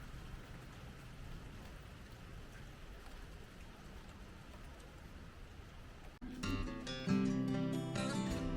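Steady rain in Alabama, a soft, even hiss of falling drops for several seconds before an abrupt cut to a louder, busier sound.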